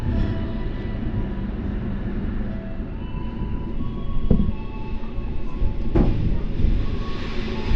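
The Kutojaya Utara train stands at a station on track 4, hauled by a red locomotive. A continuous low diesel rumble with ambient station noise is heard, along with a couple of sharp metallic clanks, and no talk.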